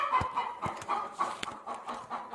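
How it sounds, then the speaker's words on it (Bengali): A chicken chick cries in a series of short, repeated peeping calls, fairly close and moderately loud, with soft clucking in the background. "আরে মুরগি বাচ্চা চিল্লাইতেছে কই"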